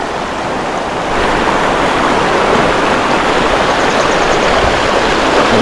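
River water flowing at a riverside campsite, a dense, loud, steady rush of broadband noise that swells after the first second and continues alone.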